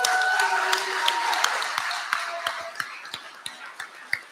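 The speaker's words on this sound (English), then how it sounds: "Can we all give a round of applause" Scattered hand claps come from a small audience at the BLOC'PARTY Aotearoa 2022 gathering. The crisp, separate claps turn sparser and more distinct as they go, over a faint tonal background.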